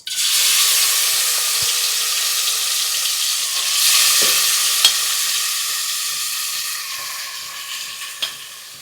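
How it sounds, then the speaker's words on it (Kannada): Chicken sizzles loudly in hot oil in a home kitchen pan while being stirred for chicken biryani, a steady close frying hiss with a few sharp spatters and scrapes of the spoon. "ಚಿಕನ್ ಹಾಕ್ತಾ ಇರೋದು ಇವಾಗ"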